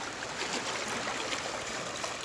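Small waves wash gently onto a Lake Superior shore near Marquette, Michigan, a soft, steady broadband hiss of water with no clear separate breaks and no speech.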